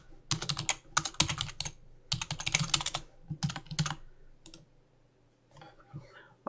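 Quick bursts of computer-keyboard typing, close and crisp, in several clustered runs with short pauses, a note being typed into a file, then falling quiet toward the end.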